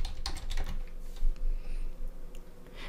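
Quick, light keystrokes tap on a computer keyboard while a project name is entered in hagercad electrical design software, a short close-up run of typing with no voices.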